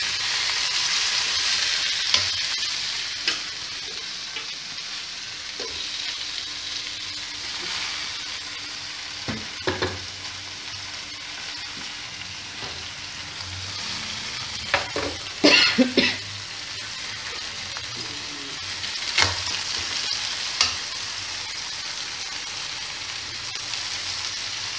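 Gongura (sour spinach) leaves fry in a pan with a steady soft sizzle, broken by occasional sharp scrapes and clinks of a spatula stirring them, close by with no talk.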